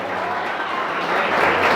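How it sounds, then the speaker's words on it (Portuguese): A church congregation claps and applauds together during a worship service, a steady broadband patter that swells slightly toward the end, with faint crowd murmur underneath. "Quem pode aplaudir ao Senhor?"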